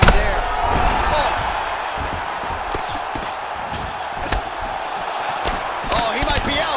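A knee strike lands in UFC 4 on PS5 amid a roaring arena crowd, with commentary over constant crowd noise and several sharp thuds scattered through.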